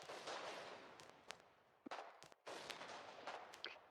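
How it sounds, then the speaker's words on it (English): Gunfire in a battle against Warden forces in the war game Foxhole, a scatter of sharp, irregular shots at a distance, fairly faint, with a few louder cracks standing out. "as you can hear, lots of gunshots being fired in retaliation against the Wardens"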